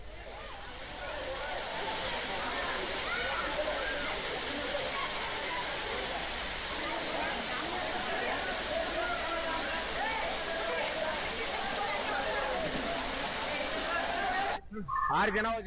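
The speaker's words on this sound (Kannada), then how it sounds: "ದಟ್ಟಾರಣ್ಯದಲ್ಲಿರುವ ಕಪಿಲತೀರ್ಥ ಜಲಪಾತ" Kapila Tirtha waterfall in dense forest, a loud, steady broadband roar of falling water that carries on without a break, cutting off abruptly near the end.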